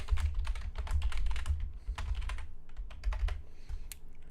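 Rapid, uneven clacking of computer keys being typed on, close up, in quick bursts with brief pauses.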